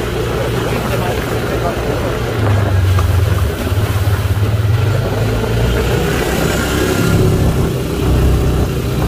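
Off-road vehicle engine pulling and revving harder on a rough trail, a loud, continuous mid-pitched drone rising and falling with wind and road noise, while people talk throughout.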